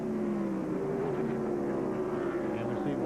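Stock cars in the 1996 Tyson Holly Farms 400 NASCAR race roar steadily as they come off a corner. Loud, continuous engine drone with slight pitch shifts throughout, no break.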